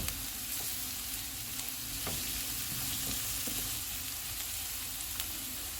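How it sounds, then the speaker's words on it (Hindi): Green chillies and spices fry in oil in a pan while the filling for a potato sandwich is made, giving a steady, close hiss with a few faint stirring clicks and no talking. "इसमें सब्ज़ मिर्च डालेंगे। सारे मसाले डालेंगे। इनको 1 मिनट तक भूनेंगे।"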